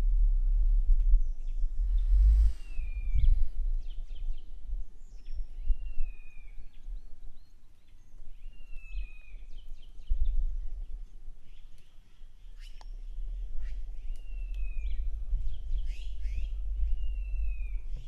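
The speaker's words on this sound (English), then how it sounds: "Birds are singing." Birds sing at sunrise outdoors near a town, with repeated short whistled chirps and calls scattered through the recording over a steady low rumble of wind or distant traffic.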